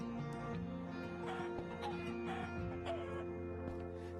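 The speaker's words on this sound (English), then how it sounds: "I just heard a chicken bite the dust" Chicken dying in a Minecraft-style survival multiplayer game, heard as brief clucking squawks over steady game background sounds and music tones, fairly faint.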